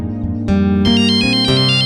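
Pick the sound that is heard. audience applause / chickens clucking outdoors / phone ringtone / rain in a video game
phone ringtone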